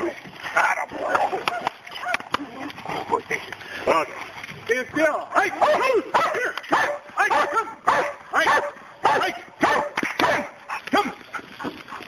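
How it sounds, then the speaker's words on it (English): A dog barks and whimpers repeatedly in irregular yips and bow-wows, close and fairly loud, mixed in with people talking throughout. "Take that dog away."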